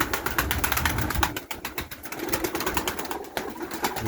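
Pigeons cooing close by amid a crowd of birds, with repeated soft coos, scattered sharp flutters and wingbeats throughout, loud and busy with no talking.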